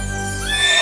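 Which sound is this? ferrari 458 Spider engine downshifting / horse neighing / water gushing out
horse neighing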